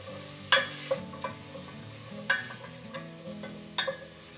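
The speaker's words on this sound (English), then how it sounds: "add it to the pot. Stir it around a little bit." A spoon stirs a clove of garlic with onions, celery and green pepper in a soup pot, giving a few distinct scraping strokes over a low, quiet sizzle, close by.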